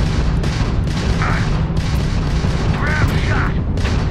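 Ship weapons pounding a Crimson Fleet vessel in the space game Starfield, rapid repeated cannon-like booms and gunfire over a constant engine rumble, loud and dense, with brief voice lines in between.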